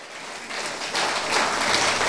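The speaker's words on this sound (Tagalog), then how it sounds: "How about a big clap offering to the Lord?" A church congregation claps steadily, a dense wash of applause that swells slightly and continues without pause.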